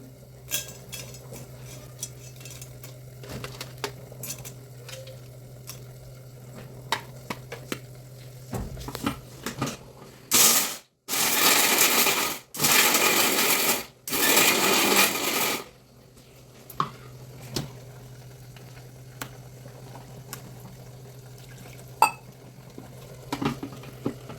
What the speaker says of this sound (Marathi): जे पुढं त्याचे पाय असतात हे आपण मिक्सरला बारीक करून घेणार आहे